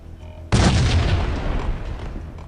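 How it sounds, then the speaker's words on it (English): A grenade explosion in the video game Max Payne: a sudden loud, close boom that erupts after a quiet half-second and rumbles on, slowly fading, with no speech. "Hold on a second. Grenade."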